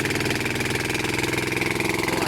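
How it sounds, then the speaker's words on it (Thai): A TF150 engine driving a water pump roars loudly and steadily near the listener, a rough rhythmic throb held at full throttle without letting up. "อลองเร่งเครื่องสุดนะครับ"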